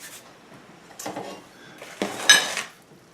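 Pecans, almonds, walnuts and sweetened coconut tossed together in a bowl for Nanaimo bars, several bursts of clattering, scraping spoon-on-dish contact separated by quiet pauses, close up.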